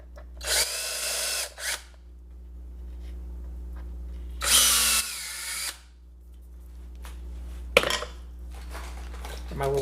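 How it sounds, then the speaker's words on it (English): A cordless power drill bores screw holes in a pedalboard, three separate short whirring bursts with quiet pauses between and a faint clunk near the end. "I'm gonna just start with my drill and drilling"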